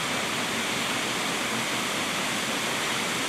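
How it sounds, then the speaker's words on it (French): The Demandols cascade roars as a steady, loud rush of falling water, unbroken and with no voices over it. "Petite halte à la cascade de Demandols."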